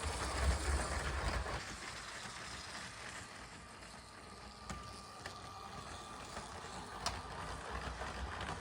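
A LEGO toy train runs on its plastic track with a low, continuous rumbling whir and a few faint clicks. The sound is quiet and steady and heard alone.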